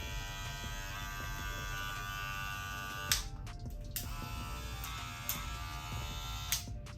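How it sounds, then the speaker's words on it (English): Stylecraft Protégé hair clipper running fresh out of the box, a steady close-up electric buzz with a strong hum, broken by a few brief clicks and dips as it is handled. "This is the same clipper. This one may sound a little different because it's more oil than this one is"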